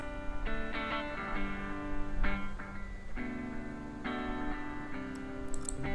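Electric guitar from a mix of a song, now with EQ applied, chords struck about once a second with brighter, clearer attacks and ringing sustain, heard alone.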